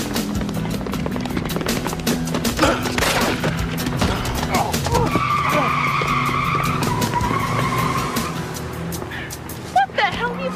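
Gunfire rings out in a tense street scene, with sharp cracking shots and a screech like skidding tyres, all under raised voices.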